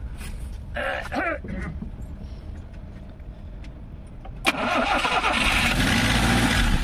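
A car's engine, powered by a lithium titanate battery in place of a lead-acid one, cranks and catches, then settles into a steady, loud idle. A voice is briefly heard early on.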